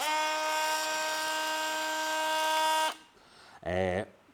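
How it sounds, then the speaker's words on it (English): A cordless multi-tool locked on at full speed buzzes at a steady high pitch for about three seconds, then cuts off; a brief voice follows. "A good few of the multi-tools as well have a sort of a lock-on switch whereby you can turn it on full"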